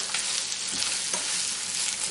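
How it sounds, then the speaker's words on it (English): Prawns and other ingredients for a prawn curry fry in a pan, giving a steady close-up sizzle with soft crackles throughout and no talking. "I'm just going to cook these through and then add the rest of the ingredients to the pan later."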